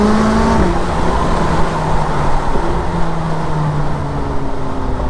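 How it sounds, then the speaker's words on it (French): A McLaren 570S accelerates, its engine note climbing and shifting through gears in a loud, steady drone heard from on board. "je ne peux pas vous décrire ce que je ressens quand tu accélères à bord d'une McLaren 570S"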